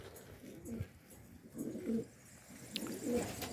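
Sarı Macar and Sarı Güllü pigeons coo in short low bursts, a few soft calls spaced across a few seconds over faint background noise.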